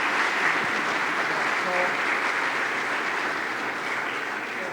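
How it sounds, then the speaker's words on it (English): An audience at a lake association's annual meeting claps steadily in a full, continuous round of applause that holds at an even level throughout without a break. "So let's give them another big round of applause."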